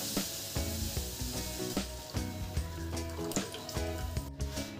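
Pudding mixture for caramel custard is poured into a pan, giving a soft liquid splashing and light sizzle under quiet background music, faint and close.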